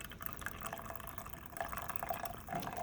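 Hot water at 85 °C poured into 100 mL of room-temperature water at 20 °C, a steady, faint splashing trickle running through the whole stretch.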